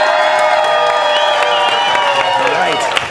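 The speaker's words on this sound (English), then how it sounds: "I want you to cheer for the film you want to see go to Act 3" A live audience cheers and whoops loudly for a film in a showdown vote, with a dense wall of crowd voices and scattered shouts sustained throughout.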